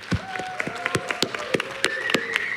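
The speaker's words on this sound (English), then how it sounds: "Round of applause for Devfolio, please." Applause from an audience at a tech conference closing ceremony, a steady patter of claps with a few sharper nearby ones and a faint tone running beneath.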